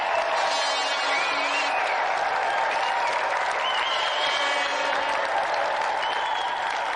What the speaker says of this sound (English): So let's give another round of applause for our special guest tonight, Gordon Burns!